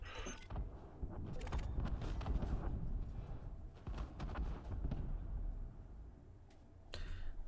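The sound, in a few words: explosions of dropped cargo in space, video game Elite Dangerous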